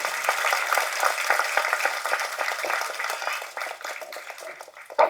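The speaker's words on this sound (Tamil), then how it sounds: "கைத்தட்டு தட்டுங்க நம்ம தயாரிப்பாளருக்கு" An audience at a film audio launch claps for the producer, a dense, fairly loud burst of applause that holds steady and thins out near the end.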